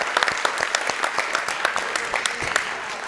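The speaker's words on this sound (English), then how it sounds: "Can we give them a round of applause?" An audience at a college State of the College event claps together in a dense, steady round of applause. Sharp individual claps stand out over the sustained wash of the crowd.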